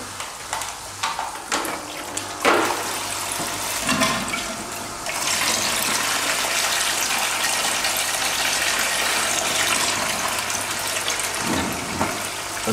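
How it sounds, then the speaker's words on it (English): A hydroponics bubble pot system's pump pushing water out through a hose pipe, a steady loud gushing rush that builds after a few scattered splashes and runs on without talk. "connect the length of hose pipe that comes with the system, twist the pump back on"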